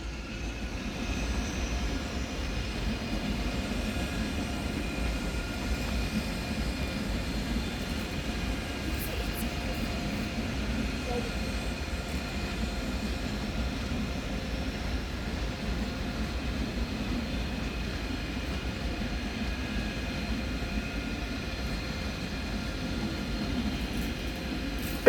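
An ICE train from Augsburg rolls into München Hauptbahnhof, a low, steady rumble that stays even and moderately faint throughout, with no distinct horn or brake squeal.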